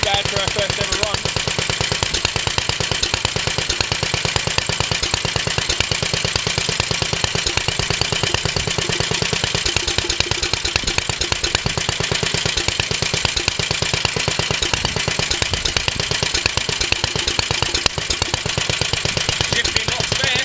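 A 1945 Petter A type vintage stationary engine, running for the first time in 30 years, chugs with a fast, even, loud beat throughout, close by and unbroken.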